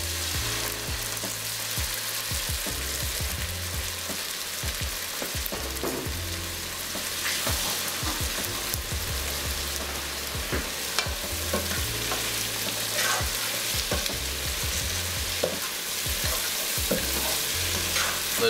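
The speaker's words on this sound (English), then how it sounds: "I want to add a little bit of red wine" Red wine goes into a pan of watermelon soup that sizzles loudly and constantly, with repeated stirring and scraping sounds all the way through and no one speaking.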